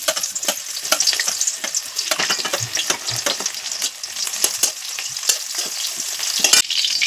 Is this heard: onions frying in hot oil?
yes